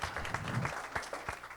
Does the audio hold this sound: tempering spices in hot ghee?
no